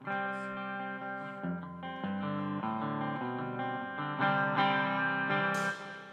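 Electric guitar on a Gristle King played through a Lucy Dreamer pedal with clean boost, a steady stream of sustained chords and melodic notes with some shimmer, loud and close, no talking.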